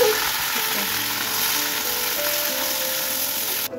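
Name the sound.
vegetables frying in hot oil in a kadai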